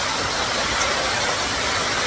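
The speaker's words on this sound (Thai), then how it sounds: "ตรงนี้คือบรรยากาศน้ำตกทานสวรรค์นะครับ" Than Sawan waterfall in Doi Phu Nang National Park, a stream of clear water, gives a steady, even rushing wash that fills the whole stretch without break or voices.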